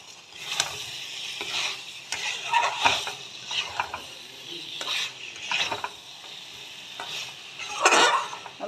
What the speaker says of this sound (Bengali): এবার আমি এই কপিগুলো দিয়ে কষিয়ে নেব